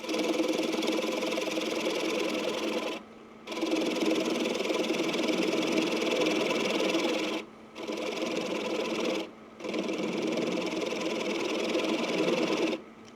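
Wood lathe turning a cherry bowl slowly at 600 RPM, a steady close mechanical whir with tonal hum that cuts out briefly three times, roughly every few seconds, then resumes at the same level.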